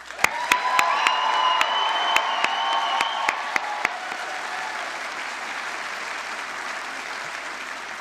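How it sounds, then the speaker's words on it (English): Graduates at a Mohawk College convocation burst into loud, sustained applause, dense crowd clapping lasting several seconds with sharp individual claps and a few whoops on top before fading into a broad room wash. "Give yourselves a nice round of applause"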